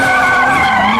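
A turbocharged BMW drift car with around 500 horsepower, at a Falken drift team show, screams with a loud, sustained engine tone over squealing, skidding tires, close and continuous.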